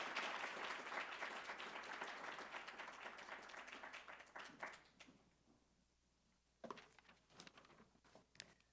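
Dense audience applause at an award ceremony, loud and steady for about five seconds, then fading to scattered claps with a brief renewed burst near the end.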